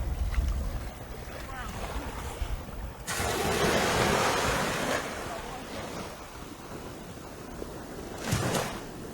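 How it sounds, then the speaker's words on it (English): Ocean waves breaking at the water's edge on a Carlisle Bay beach, with steady wind rumble, a loud surging wash in the middle and another brief surge near the end. "so we can actually hear some waves and stuff breaking"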